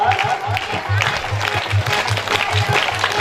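A crowd claps at a Radha Rani devotional dance event, rhythmic clapping in a steady beat with singing or chanting over the top.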